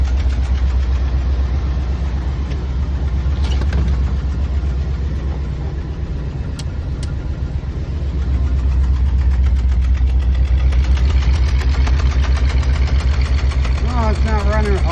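The engine of a 1966 Ford Thunderbird runs at a steady, loud idle with a deep rumbling throb, while someone speaks close by over it.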